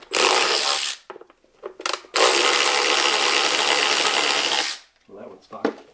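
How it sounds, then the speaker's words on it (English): Loose bolts rattle and clatter inside a container during removal of a Subaru WRX engine, two long bursts of metallic shaking, close and loud, with short pauses between. "All the bolts are in here."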